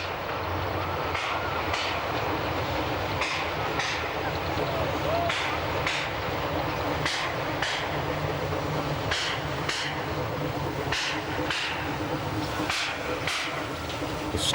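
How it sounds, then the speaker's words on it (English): A steam train chuffs through the town streets of La Chaux-de-Fonds in the Swiss Jura, with steady rhythmic exhaust beats over a continuous rumble of running gear and a constant background roar. "The steam train is an unusual vehicle through the streets of La Chaux-de-Fonds, a real contrast to the 21st century setting."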